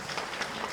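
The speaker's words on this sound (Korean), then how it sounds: "우리 박수로 환영하겠습니다" Brief applause from a church congregation welcoming visitors during a Sunday worship service, a soft, dense patter of many hands heard at a distance for under a second.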